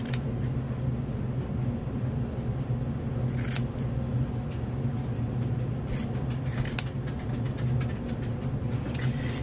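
Scissors cutting out fabric for a boomerang stuffed toy, heard as steady close snipping and rustling over a constant low hum, with a few sharper crisp snips scattered through.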